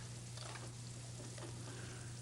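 Chicken fat and garlic frying together in a pan for Spanish-style chicken, a soft steady sizzle with faint crackles and a low hum beneath, no talking.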